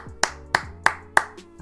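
Four evenly spaced, crisp hand claps, close and clear, each a sharp isolated smack with a short decay.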